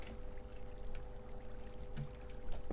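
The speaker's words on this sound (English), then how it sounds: "they get pushed up by a water elevator" Flowing water in a Minecraft water elevator, a soft continuous pouring rush with a faint steady hum underneath.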